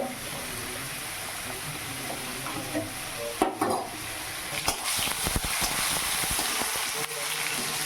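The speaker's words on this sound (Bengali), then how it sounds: "এই যে দেখো ভাত আর ফুলকপি ভাজা চাপিয়ে দিয়েছি" Cauliflower fries in a pan with a steady, moderate sizzle and occasional clinks and scrapes of a utensil against the pan.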